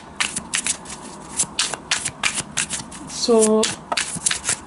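Oracle card deck being shuffled by hand, a series of quick riffling card bursts in a steady rhythm, close and clear, with a brief spoken word partway through.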